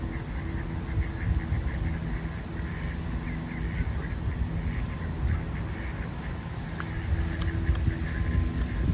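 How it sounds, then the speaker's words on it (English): Ducks at feeding time quack and call steadily over a dense, constant outdoor din. Their quacks are fairly near and keep going throughout. "it's feeding time for the ducks."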